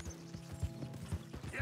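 Horse hooves clip-clop in Red Dead Redemption 2, a quiet, regular series of soft thuds with a faint mechanical creak and low hum underneath, under brief talking.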